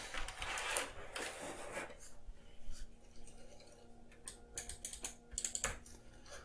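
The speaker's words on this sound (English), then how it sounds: "Alright, so this is our keyboard." Someone handles a Dell trackball keyboard indoors, with bursts of clicking key presses and plastic rattling as it is turned over, fairly close and irregular, with no talk.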